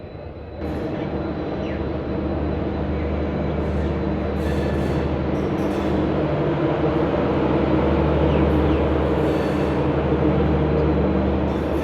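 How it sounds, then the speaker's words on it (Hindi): Shri Ganganagar–Nanded superfast train pulling out of a station, a loud, steady rumble of rolling wagons and wheels that swells gradually and continues throughout, with faint metallic squeals on top. "ये निकली अपनी नांदेड़ सुपरफास्ट वाया हनुमानगढ़।"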